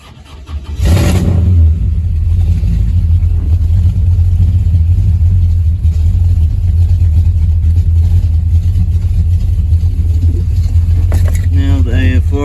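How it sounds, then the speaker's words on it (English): A 1963 Pontiac V8 cranks briefly, catches and settles into a loud, steady, rumbling idle that runs unbroken to the end, with a short burst of speech near the close. "So I'm gonna crank the car up."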